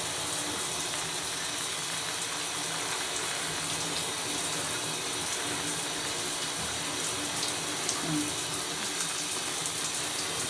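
Water runs and pours steadily while hair is washed with natural hair care, a constant close hiss and splash lasting throughout.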